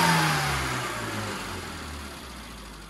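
A tuned car engine revs on the road at the start of a test drive, a steady mid-low drone that falls in pitch and gently fades over a few seconds, with no talk.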